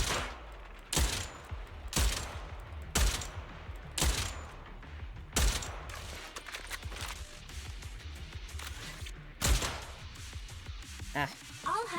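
Repeated bursts of gunfire in Zenless Zone Zero, sharp loud shots coming roughly once a second over game music and background sound, with a voice speaking in between.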